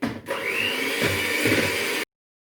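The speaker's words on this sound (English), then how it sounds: "I'm putting the double cream into the mixing bowl and I'm going to whisk it up until it's light and fluffy." Double cream being whisked in a mixing bowl gives a close, steady whirring and scraping for about two seconds before cutting off abruptly.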